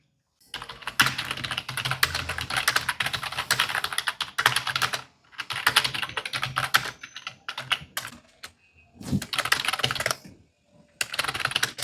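Fingers type on a laptop keyboard in close, rapid bursts of clicking keystrokes, separated by brief silent pauses, with no voices.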